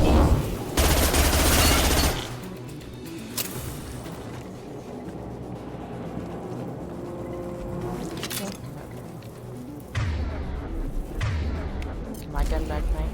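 Bursts of rapid gunfire in a Mass Effect firefight, loud and dense at the start, returning after a quieter stretch with scattered shots and clinks, with a voice talking between the volleys.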